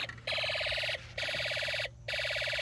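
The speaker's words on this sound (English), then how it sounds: "So this is the other alarm" A Snap Circuits burglar alarm blares a loud, rapidly warbling electronic tone in three long bursts separated by brief gaps, close and with no voices.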